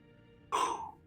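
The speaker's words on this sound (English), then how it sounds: "Gotta clear my throat" A single short, close throat clearing, one raspy burst that fades after about half a second, in an otherwise quiet room.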